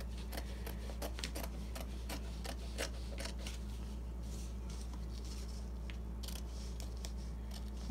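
Scissors snipping along the edges of napkin fabric backed with cling wrap, a steady series of close, crisp cuts over a constant low hum, no talking.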